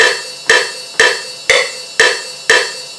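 A programmed house beat with standard hi-hats and a clicker layered in, steady sharp percussive hits every half second with bright, hissy decays, played alone with no talking.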